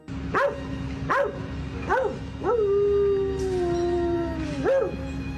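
A guard dog howls on burnt ground among ruins after a strike on a Kyiv building. It gives several short rising howls, then one long, drawn-out wail, close and clear, with no one talking.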